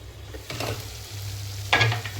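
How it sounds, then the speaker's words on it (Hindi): Masala roasting in oil in a pan, a low continuous sizzle with two bursts of scraping as it is stirred, close up and with no voices. "ये मेरा मसाला बहुत अच्छे से भून चुका है। बस 1 मिनट इसे और भूंजूंगी"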